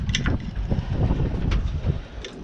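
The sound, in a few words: strong wind blowing on the microphone by a lake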